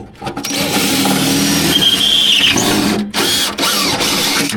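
A power drill whines loudly and steadily, briefly cutting out and restarting with a high squeal near the middle as the bit slips in the chuck.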